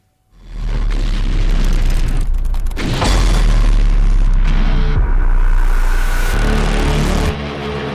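A loud explosion during a missile strike in southern Syria, caught on a live news broadcast: a sustained heavy rumble with a sharp burst partway through, filling the whole clip.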